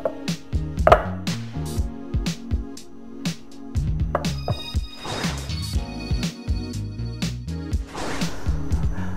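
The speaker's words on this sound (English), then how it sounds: "Cut into stick." Knife chopping chikuwa fish cake into sticks on a board for yaki udon, a rapid run of close, sharp chops with steady rhythm over faint background music, and no talk.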